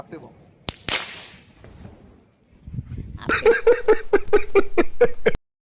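Diwali firecrackers go off outdoors beneath a streetlight: two sharp cracks, then a rapid string of about ten loud pops that stops abruptly.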